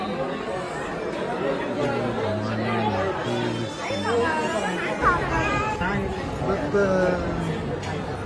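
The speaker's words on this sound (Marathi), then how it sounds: "गर्दी बघू बा किती गर्दी आहे." Dense crowd chatter fills a packed temple at Jejuri, an overlapping babble of many voices at steady loudness with a few nearer voices rising above it throughout.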